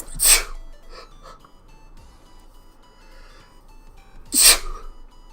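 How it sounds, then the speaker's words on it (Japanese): Two loud, close sneezes from a woman, one at the start and another about four seconds later, with quiet room tone between them and no talking. "ちょっと待って、くしゃみ出る。"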